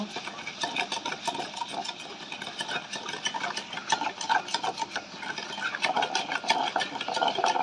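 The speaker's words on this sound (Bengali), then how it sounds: "তেলটা আমি একটু মিশিয়ে নিব" Oil worked into eggless cake batter in a bowl with a spoon or whisk makes a fast, steady scraping and tapping, continuous and close.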